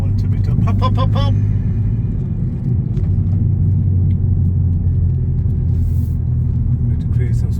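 A Vauxhall Corsa VXR Nurburgring Edition with a cat-back exhaust rumbles steadily at low pitch from inside the car, with a few quick crackles near the start and someone talking over much of it.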